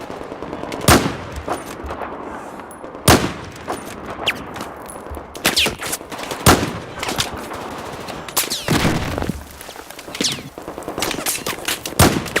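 Battlefield 4 campaign gunfire in the Tashgar mission: bursts of automatic rifle fire and single shots crack at irregular intervals, some sharp and near, others farther off.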